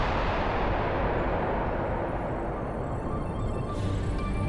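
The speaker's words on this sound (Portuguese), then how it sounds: "900 vezes o deserto tremeu com um impacto e foi iluminado pelo clarão aterrorizante de uma bomba" A massive atomic bomb blast in the desert comes through as a sustained, loud, broadband roar and rumble that stays heavy throughout, with no voices.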